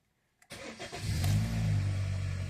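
A 2011 Kia Optima's engine cranks and catches after a moment of quiet, then settles into a steady, close idle with a low rumble.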